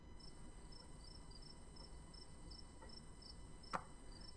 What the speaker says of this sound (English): Yeah, crickets.